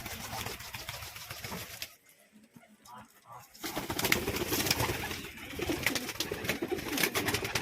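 Pigeons of the Rampuri and Madrasi flying breeds in Murshidabad, released as a pair, flapping and fluttering with soft coos close by, over a busy background with a quieter gap in the middle.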